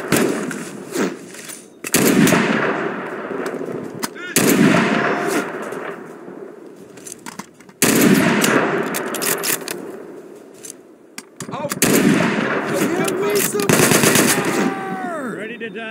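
Rifle shots and machine-gun bursts in the war game Mud and Blood, loud clattering volleys in several long bursts separated by short gaps, with voices speaking between and over the firing.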